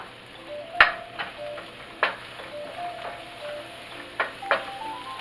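Mushrooms sautéing in a pan with spinach give off a low, steady sizzle, broken by a few sharp clinks and taps of a utensil against the cookware. No one speaks.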